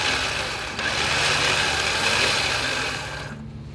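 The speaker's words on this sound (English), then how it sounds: "So you want to release that tension by extending the cable" A Defender's electric winch motor spooling out its cable, a steady loud whirring drone that holds evenly for several seconds before easing off at the end.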